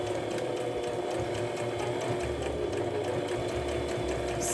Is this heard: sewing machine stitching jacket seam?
yes